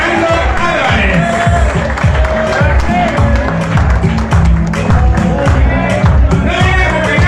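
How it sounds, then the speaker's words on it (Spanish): Applause and cheering from family and guests at a 60th birthday party, a dense steady wash of clapping and crowd noise with voices mixed in, loud and continuous throughout. "Eso es aplauso que se escuche."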